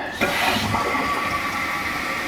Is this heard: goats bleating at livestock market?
no